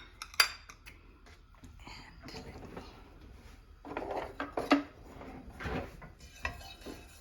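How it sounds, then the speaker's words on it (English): Cumin seeds are stirred in a little oil in a pan, quiet scraping and tapping of a spoon against the pan in scattered strokes, with a faint background hiss. "Just stir it a bit"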